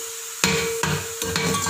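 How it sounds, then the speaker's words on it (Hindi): Onions fry in a pan toward light brown for chana pulao, a steady sizzle running throughout, broken by three sharp stirring knocks at roughly even intervals. "प्याज को हम लाइट ब्राउन करेंगे।"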